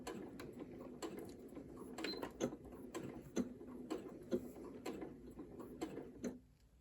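A Janome Memory Craft 8200 QCP sewing machine stitching in reverse, giving a quiet, steady mechanical patter with regular ticking clicks that stops abruptly near the end.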